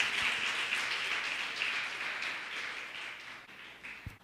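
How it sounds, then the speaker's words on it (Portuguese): A church congregation applauds in praise, a broad, moderately distant wash of clapping that slowly tapers off. "Você pode aplaudir ao Senhor, glória a Deus"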